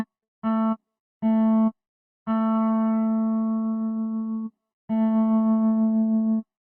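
Kontakt guitar sample with a tremolo effect: several sustained tones played in separate bursts, the longer notes pulsing gently in volume, clean and alone with no voices.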